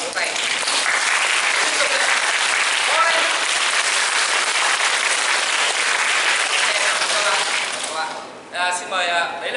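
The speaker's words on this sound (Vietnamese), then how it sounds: "Các bạn vỗ tay." A room of university students claps together, loud and dense with continuous applause that fades out near the end into a few scattered voices.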